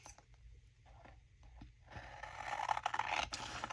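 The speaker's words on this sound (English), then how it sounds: "Let's just take our scissors and" Scissors cutting through patterned paper, with soft intermittent snips that give way to a louder, continuous close scraping slice.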